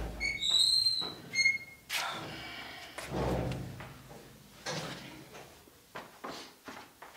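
A door opens as a visitor enters in a Libyan TV drama, with a few squeaky whistling creaks early on. Several clunks and bumps of the door moving and shutting follow, fairly close and with no talk.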